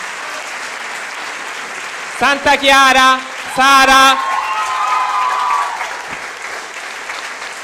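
Loud audience applause after a parish musical, continuous clapping with a speaker's voice announcing names over it in two short bursts partway through.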